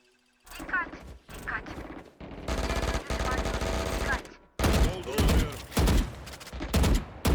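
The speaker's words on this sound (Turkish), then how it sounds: "Oo Sage vurdu." Rapid automatic gunfire from the video game Valorant, played on PS5, comes in several loud, close bursts separated by brief pauses, with heavier sustained volleys in the second half.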